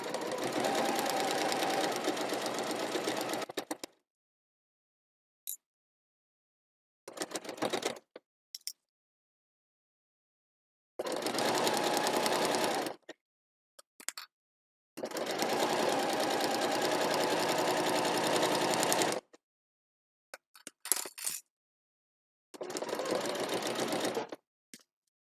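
A sewing machine stitches at a longer stitch length in several steady bursts of a few seconds each, close and clear, separated by silences and short clicks.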